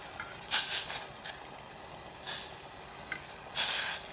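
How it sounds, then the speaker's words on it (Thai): Sour fish curry (kaeng som) with mixed vegetables coming to a boil in a pot, soft hissing and sizzling bursts rising in a few separate surges over a quiet steady background, close and fairly faint. "อันนี้เขาเริ่มเดือดแล้วนะคะเดี๋ยวแป๊บนึง เดือดแล้วค่ะ"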